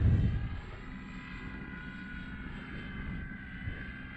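A model Hawker Hurricane airplane engine drones steadily in flight, a thin continuous buzz heard from a distance, with a brief louder gust at the start.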